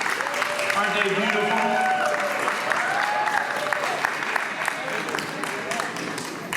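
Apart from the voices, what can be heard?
audience applause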